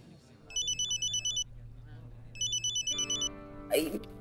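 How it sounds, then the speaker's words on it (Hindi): A telephone rings in two bursts of rapid electronic trilling, separated by a pause, with faint background noise and a brief clatter at the end. "मैं बस ये फोन रिसीव कर लूं।"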